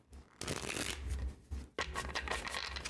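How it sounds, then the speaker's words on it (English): Tarot cards being shuffled by hand during a live psychic reading, a dense papery riffling that runs in two bursts separated by a short pause, close and fairly loud with no talking. "There we go, a nice shuffle."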